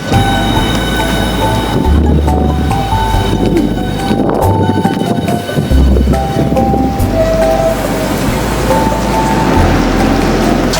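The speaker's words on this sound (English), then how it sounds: "Now I am on the train back to my normal stop." Continuous loud rumble and rattling of a moving train heard from inside a carriage, with steady tonal whine and occasional low thumps.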